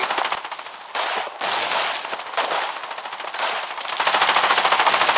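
A mounted machine gun fires in the Foxhole war video game, long rapid bursts of loud, close shots with brief pauses between them, ending in a fast rattling stream.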